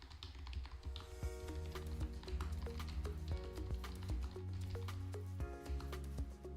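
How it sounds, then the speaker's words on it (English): Someone types on a computer keyboard. Rapid, uneven keystrokes click close by for the whole stretch, with a low room hum underneath and no talking. "I'm typing it."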